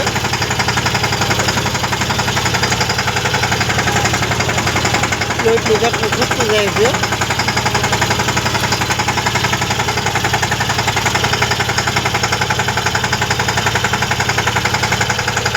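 A vehicle engine drones loudly and steadily while the vehicle crosses water on an unfamiliar dirt track, with someone talking over the constant rumble.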